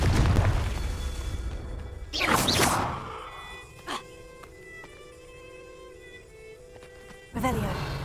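A Confringo fire spell blast in Hogwarts Legacy, a sharp booming burst with a whooshing tail, followed by quieter magical tones and another burst near the end, with a voice calling out over it.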